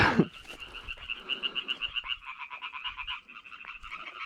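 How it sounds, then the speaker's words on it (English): European tree frog (Hyla arborea) on reeds calling in a rapid, steady pulsed series of loud, nasal croaks, close by and alone. "it's time to put back our Hyla arborea, the European tree frog."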